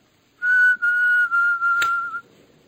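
One person whistles a steady high note, holding it for nearly two seconds with a few brief breaks, alone in a quiet room.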